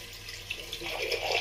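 Water runs from a tap for rinsing after shaving, a quiet continuous splashing hiss that builds slightly toward the end.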